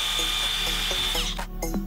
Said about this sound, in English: I drilled some holes in the board for the mounting hardware.